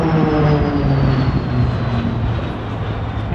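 Propeller aircraft engines drone steadily and loudly as warbirds roll out during a classic fighters air display at Omaka, a continuous throbbing roar with no talk.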